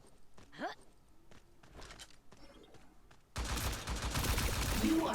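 Gunfire from the T3 Arena video game; a quiet stretch of scattered game effects and faint voice gives way to a sudden loud, dense burst of rapid shooting that fills the last two seconds.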